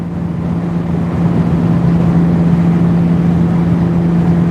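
A BMW E85 Z4 engine runs steadily at close range, a low droning hum that swells slightly after a second and then holds an even, continuous tone without speech.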